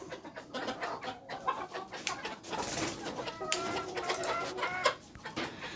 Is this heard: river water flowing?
no